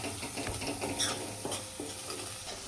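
A spoon stirs ground spices such as chili and coriander-cumin powder in a hot cooking pan, with scraping strokes and clinks against the metal over a soft sizzle, close and fairly quiet.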